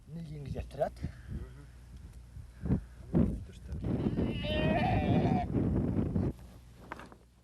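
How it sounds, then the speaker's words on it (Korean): Goat bleating on the Mongolian grassland amid a voice speaking: a drawn-out, wavering bleat swells in the latter half, with scattered talk and rustling before it. "염소 한 마리를 잡았다."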